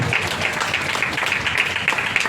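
A congregation at a Christian worship gathering in Dubai breaks into loud, sustained clapping, a dense continuous patter of many hands close by with no speech over it.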